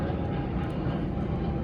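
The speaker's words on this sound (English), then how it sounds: "Let me just wait for this airplane to leave" An airplane passes overhead as a steady, broad rumbling roar that holds at a moderate, distant level throughout, with no one speaking.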